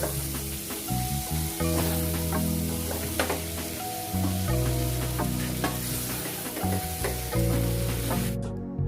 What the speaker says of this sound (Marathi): फणस फोडणीमध्ये छान हलवून व्यवस्थित मिक्स करून घेऊयात।